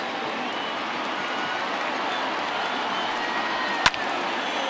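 Large stadium crowd of 36,000-plus in MLB The Show 20, a Phillies versus Mets baseball game, giving a steady, broad roar of cheering with one sharp crack near the end.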